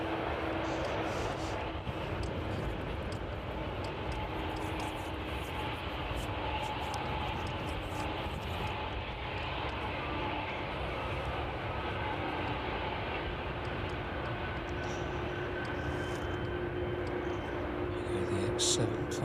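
A Boeing 757 airliner arriving at East Midlands Airport on a cold windy evening, a low steady engine roar at moderate distance with a faint whine, continuous over wind noise, with someone speaking at times.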